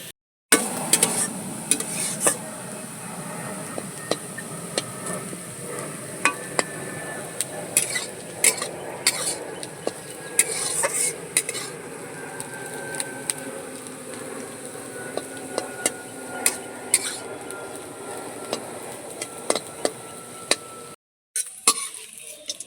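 Hand-cut rice grains being stir-fried and tossed in a pan by a grandmother, a steady scraping and stirring with faint sizzle and occasional clinks of the utensil against the metal, continuous throughout with no talking.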